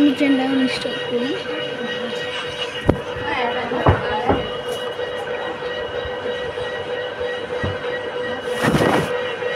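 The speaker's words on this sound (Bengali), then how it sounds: "আমি ট্রেনটা এখন স্টার্ট করি।" A train in a Bangladesh train simulator video game starts up, its rail noise running steadily throughout with brief clanks and a louder burst near the end, while a voice talks over it.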